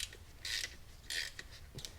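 Bolts are tightened down on a clutch pressure plate during a 2014 Ford Focus ST synchro job. Quiet, close metallic ratcheting creaks come in short bursts with brief pauses.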